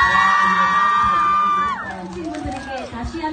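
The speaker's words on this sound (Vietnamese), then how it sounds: "chúng ta hãy dành một tràng pháo tay thật lớn gửi tới những nghệ sĩ của chúng ta ngày hôm nay" A fan event audience with Running Man's Lee Kwang Soo in Vietnam cheers and shouts for the performers. A sustained high squeal opens the clip, then crowd noise continues in a looser, lively mix.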